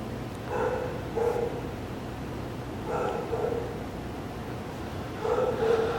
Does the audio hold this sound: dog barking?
yes